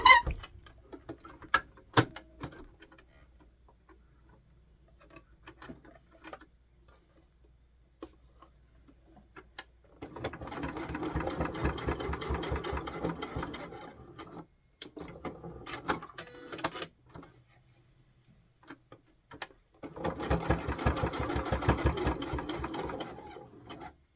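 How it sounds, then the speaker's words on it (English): A sewing machine stitches straight across the top of a doll dress bodice in two moderate runs of about four seconds each, separated by faint ticking, fabric handling and brief pauses. "we're going to sew straight across the top"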